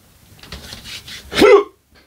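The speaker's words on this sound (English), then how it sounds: "Hiccups." A single hiccup after eating very hot scorpion-stinger hot sauce, close and fairly loud, following a few faint breathy sounds and then dropping to near silence.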